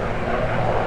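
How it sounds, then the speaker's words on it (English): A Marine helicopter flies overhead above the National Mall in Washington, DC, its engine and rotor drone loud, steady and continuous. "We saw a helicopter, a Marine helicopter, looked like a Marine one"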